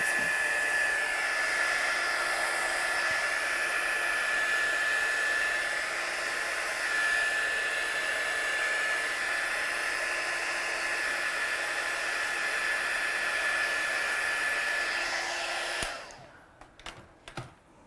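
A heat tool blows steadily to dry watercolour paint on a stamped card, a constant close airy whine lasting about sixteen seconds before it switches off, leaving a few faint taps and handling sounds.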